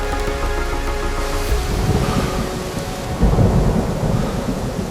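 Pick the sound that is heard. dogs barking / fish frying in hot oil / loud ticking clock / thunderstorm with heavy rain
thunderstorm with heavy rain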